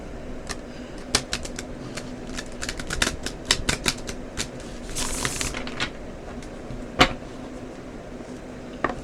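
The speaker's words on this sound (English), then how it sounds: "And I'll do one more final shuffle." Oracle cards riffle and snap in quick irregular bursts, a close, crisp shuffling with sharp flicks and one louder slap near the end.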